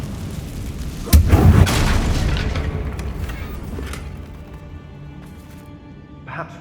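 In Hogwarts Legacy, a Confringo blasting spell sets off a sudden deep boom, followed by a rumbling tail that fades slowly over several seconds.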